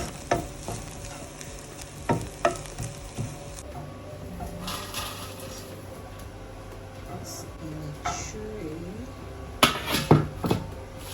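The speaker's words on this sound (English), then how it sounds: "You have to fry until you hear that crispy sound" Steady frying sizzle of winged termites in a pan, with occasional stirring scrapes and clinks, a person talking over it.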